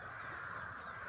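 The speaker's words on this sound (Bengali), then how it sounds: "এইখানে তো গাছে পাখি আছে, দেখি তো এটা কি পাখি।" A crow calls from a tree overhead in one steady, fairly close burst of harsh cawing, with no talk over it.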